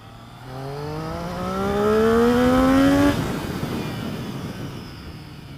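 A Triumph Street Triple R naked motorcycle with its three-cylinder engine accelerates through the gears, the rising howl swelling loud and close before easing back to a steady cruise.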